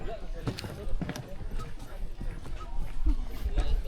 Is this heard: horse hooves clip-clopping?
yes